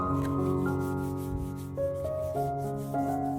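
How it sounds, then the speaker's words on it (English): Steady soft rubbing of a cloth over anthurium leaves to wipe off dust, a continuous close friction sound under a faint sustained background tone. "Wiping the leaves removes accumulated dust"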